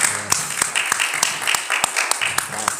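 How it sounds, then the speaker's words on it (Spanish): An audience applauds a legal scholar at a law event in Peru, a steady patter of many hands clapping with sharper individual claps standing out, lasting throughout at moderate loudness. "Un aplauso para él."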